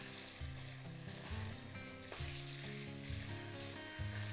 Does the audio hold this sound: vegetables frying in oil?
yes